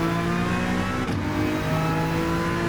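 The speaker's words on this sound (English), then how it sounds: "Now I need to rev out this NSX more" A Honda NSX engine in Gran Turismo 7 drones steadily at high revs, a loud continuous mechanical whine with a slight dip midway and no talking.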